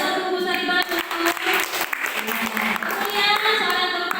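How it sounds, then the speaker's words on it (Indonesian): Applause from an audience of teachers at a school dissemination session on positive culture, steady clapping through the whole stretch with voices and some music-like tones mixed in. "tepuk tangan untuk Bu Sari Batu"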